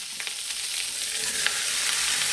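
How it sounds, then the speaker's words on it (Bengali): Potatoes frying in a home kitchen pan for aloo bhaja, a steady, fairly quiet hiss of sizzling oil with faint scattered crackles and a light stir, close by with no talk. "তাই ভেজে নিচ্ছি আলু ভাজা"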